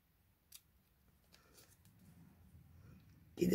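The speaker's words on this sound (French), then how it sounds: "Et on coupe notre papier" Scissors snipping excess paper off a handmade paper clip embellishment, a faint crisp cut early on, then a soft rustling scrape building up to a louder close snip at the end.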